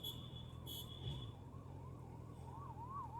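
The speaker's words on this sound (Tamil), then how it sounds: "ஆம்புலன்ஸுக்கு வழி விடுங்கண்ணே." Ambulance siren wailing steadily on a rainy road between Chennai and Yelagiri, heard from a motorbike amid constant traffic and engine noise, the rising and falling tone continuous throughout.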